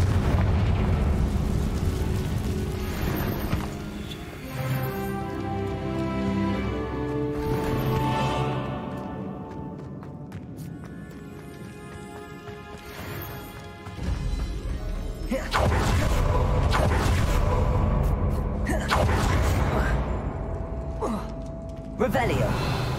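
Repeated Confringo spell blasts in the video game Hogwarts Legacy boom and crackle loudly, dense layered explosions over game music with a short lull midway, while a player calls out spell names.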